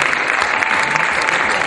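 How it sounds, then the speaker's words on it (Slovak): A live audience at a natural bodybuilding competition claps loudly and steadily, dense close applause with no break. "Pán Ježo Ladislav, silný potlesk pre ňo"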